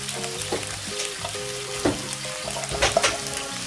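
Cooked riceberry rice sizzles and crackles as it is stirred in a hot pan, with scraping stir strokes over steady frying and soft background music.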